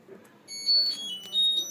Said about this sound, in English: you heard that beep sound.